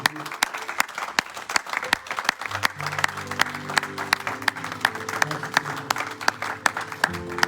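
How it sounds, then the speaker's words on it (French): A congregation claps steadily during a Sunday church service, sharp rhythmic hand claps in unison filling the room, with voices and sustained music tones underneath. "J'aimerais vraiment que tu puisses acclamer pour Dieu."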